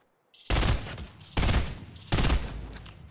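Three loud, close bursts of rapid automatic gunfire come from a weapon in the video game Fortnite, each lasting roughly half a second, separated by short pauses and trailing off with a brief echo.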